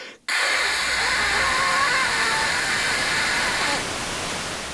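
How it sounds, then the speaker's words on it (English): Loud, steady white-noise static hiss from a video game cuts in after a brief silence and holds constant, easing slightly near the end. "not because it doesn't have sound, but because it outputs white noise"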